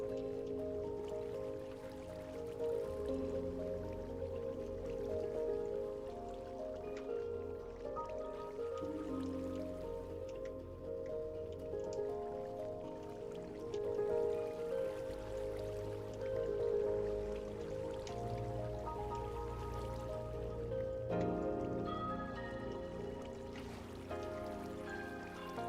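Soft trickling and dripping of flowing water in Minecraft, a steady faint gurgle running continuously beneath a low layer of background music.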